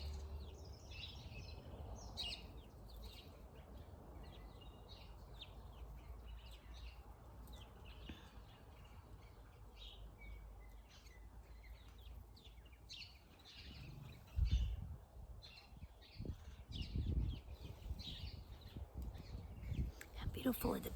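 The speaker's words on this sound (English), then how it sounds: "How beautiful are the birds today?" Birds chirping and singing outdoors, faint scattered tweets over a steady low rumble of wind or background noise, with occasional louder thumps and handling bumps near the end.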